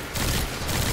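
A brief, dense burst of gunfire in a video game, loud and continuous over about one second with no pauses.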